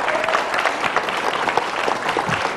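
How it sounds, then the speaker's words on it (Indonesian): A television studio audience claps for politician Budiman Sujatmiko as he is invited to speak, a full, continuous burst of crowd applause with scattered louder claps and no voices. "Silakan Mas Budiman, kita berikan tepuk tangan."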